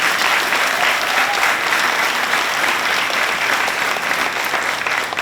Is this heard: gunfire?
no